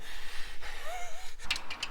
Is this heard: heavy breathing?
yes